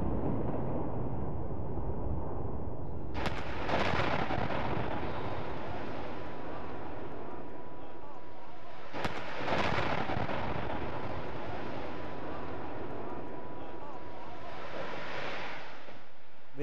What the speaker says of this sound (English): The planned explosion of one of the towers took months of preparation.